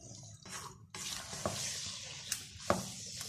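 Vegetables with boiled peas being stirred in a sizzling pan for a chicken vegetable biryani, a quiet steady hiss broken by a few sharp spatula scrapes and knocks.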